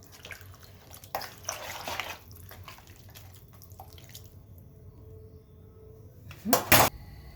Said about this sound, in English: So I'm going to drain this water now after I'm sure that I've removed all the dirt.